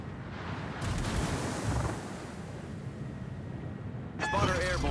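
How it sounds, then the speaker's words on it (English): Naval artillery salvos from a warship in World of Warships, the Italian battleship Cristoforo Colombo, as loud broad booming blasts with rumbling decay, a heavy burst near the start and another near the end, no talk. "All stations, requesting fire on the designated target."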